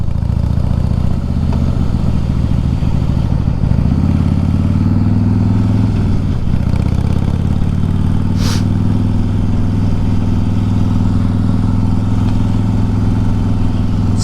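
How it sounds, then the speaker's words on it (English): A dirt bike lugs roughly in too high a gear after a stop, its engine note steady and loud with uneven, stumbling pulses and a brief rev change midway, close up with no talking. "I stopped at the stop sign without dropping to the correct gear. That's why the bike sounded like shit."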